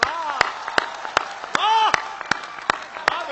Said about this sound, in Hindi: बहुत तालियां भी बजाई